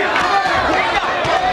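Arena crowd at a professional boxing bout between Courtney Burton and Ebo Elder, a loud dense roar of cheering and shouting that sustains evenly for the whole moment with no pauses.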